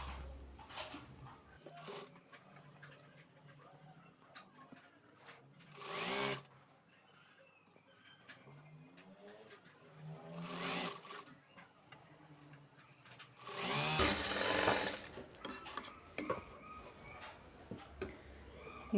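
Up close, a sewing machine stitches the front part of a blouse in several short runs of rapid whirring between quiet pauses and light handling sounds, with the last run the longest and loudest.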